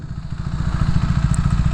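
A KTM 390 Adventure with knobby tires and a Yoshimura exhaust, a 373 cc single, idles close by in a Chicago alleyway, its steady low thumping pulse loud and even throughout.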